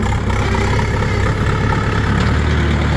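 A tractor engine runs steadily at idle in gear, giving a loud, constant low rumble with a faint whine from the rear gearbox mixed in, and no talking.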